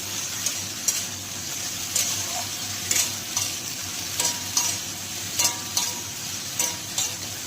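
Small morola fish lightly frying in a pan for a Bengali bati chochchori, with a steady close sizzle and regular scraping clicks of a spatula stirring, no voices.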